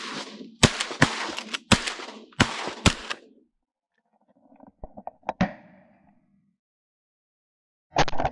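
Shotgun blasts from an opening-day duck hunt in flooded corn on a foggy morning, a rapid volley of loud sharp shots, then a few more scattered reports and another burst near the end.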